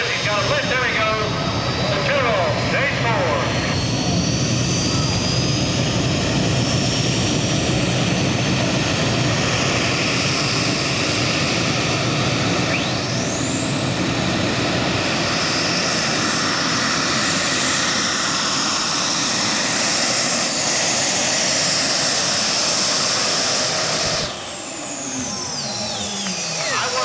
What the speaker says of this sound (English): He had some serious engine RPM before he ever came off the line tonight.